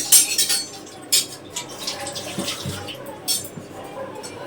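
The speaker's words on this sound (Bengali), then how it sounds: "দুটো চামচ বার করে নিলাম" Two metal spoons clink as they are pulled out in a home kitchen, giving a few sharp, bright taps spaced over several seconds with soft rustling between them.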